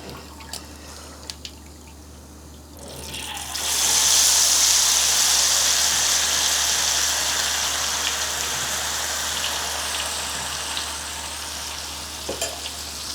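Egg rolls dry-fried in a pan of hot oil, a loud steady sizzle that jumps up as the food goes in and then settles into a long crackling hiss, with no talk.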